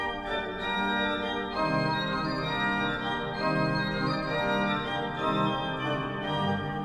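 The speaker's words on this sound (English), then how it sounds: "Then there's a one-foot" A one-foot sifflet stop on the Hinsz pipe organ of Kampen's Bovenkerk plays an unbroken stream of high, shimmering sustained notes that shift in pitch, steady in loudness and free of speech.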